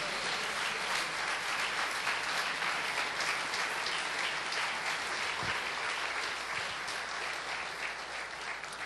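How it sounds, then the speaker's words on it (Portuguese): A church congregation applauds at a worship service, many hands clapping in a continuous, fairly loud wash that holds steady and eases off slightly toward the end. "dê um glória a Deus e um lindo aplauso ao Senhor"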